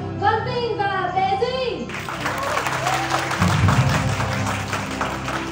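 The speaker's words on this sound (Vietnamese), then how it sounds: "Một tràng pháo tay thật lớn nữa thưa quý vị." Audience applause welcoming guests, including a businesswoman-model and two TikTokers, at a celebrity gathering; steady, dense clapping swells in after a host's amplified voice with music, continuing loud under announcer speech.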